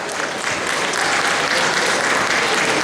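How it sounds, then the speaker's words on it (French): A thunderous round of audience applause at a conference event, dense and sustained clapping at close range, steady and loud throughout with no voices over it. "je vais vous demander de faire un tonnerre d'applaudissements pour Monsieur Garcin, artiste collagiste."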